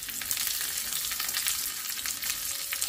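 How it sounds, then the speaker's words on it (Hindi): Curry leaves with chana dal, urad dal and mustard seeds sizzling in hot ghee, a loud, steady, close crackling hiss across the whole stretch, with no talk over it. "इसी में करी पत्ता डाल देते हैं"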